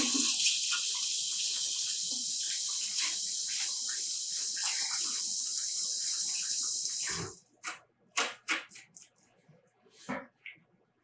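Potatoes are rinsed under a running tap, a steady loud hiss of water pouring for several seconds before it stops, followed by a few short splashes and wet handling sounds.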